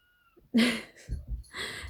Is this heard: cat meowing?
yes